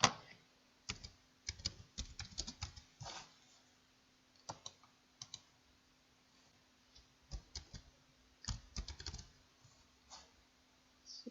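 Someone types words in Microsoft Word on a computer keyboard in quick irregular bursts of key clicks with short pauses between, close and fairly quiet, with no speech.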